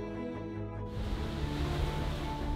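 Storm-driven ocean waves crash against the seawall at Saint-Malo during spring tides, a heavy broadband roar of surf that surges in after a brief calmer start and stays loud and continuous.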